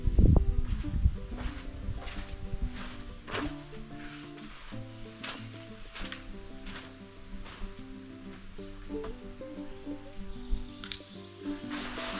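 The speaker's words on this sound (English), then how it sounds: "spray the wall down and give it a little scrub." Spraying bleach cleaner onto a backyard wall and scrubbing it a section at a time: repeated wet squishing and brushing strokes with drips and soft spray bursts, close and steady throughout, with no talk.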